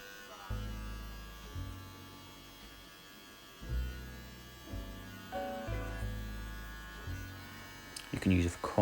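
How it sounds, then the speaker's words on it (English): An electric hair clipper buzzes close up while cutting hair on a self-done taper, switching on and off in bursts of steady droning hum with short quiet gaps between passes. "You can use a corner of your clipper to get round the top of your ear."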